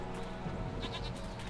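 A human voice imitates a goat's bleat with a short, wavering, quiet nasal cry.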